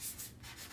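Sandpaper rubbing over painted furniture to smooth and burnish the finish, a steady close scratchy back-and-forth rasp with a few quick strokes and no talking.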